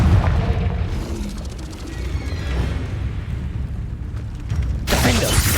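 A Confringo fire spell bursts in Hogwarts Legacy, a deep booming blast that rumbles on, then a second sharp crash hits near the end, loud with no talking.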